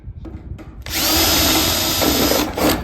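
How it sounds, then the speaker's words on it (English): A power drill bores out soft rivets on a nesting box: brief bursts from the drill at first, then one steady, loud, close whine for about two seconds, with no talking. "just drill all these out"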